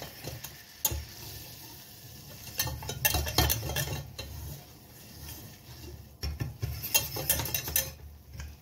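Flour stirred with a whisk into a pan of butter to make a white roux for béchamel, giving soft irregular scraping and tapping strokes, louder in bursts, over a faint background sizzle.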